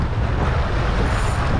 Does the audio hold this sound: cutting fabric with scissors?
no